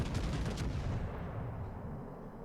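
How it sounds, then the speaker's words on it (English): The main guns of the Hyuga battleship in World of Warships fire in a heavy, booming salvo with a sharp crack, and the rumble fades out over the next couple of seconds. "So now I open fire again."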